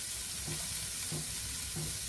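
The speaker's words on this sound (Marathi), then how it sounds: "आता यामध्ये मी हिरवे वाटाणे घालते वाफवलेले, थोडे परतून घेऊया." Steamed green peas and pulses stirred and sautéed in a pan, with a soft steady sizzle and three quick stirring scrapes spaced evenly through the short stretch.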